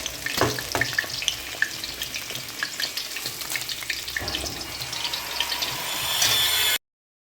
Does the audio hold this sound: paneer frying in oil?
yes